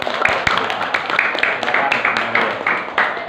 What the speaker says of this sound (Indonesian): Sekali lagi beri tepuk tangan untuk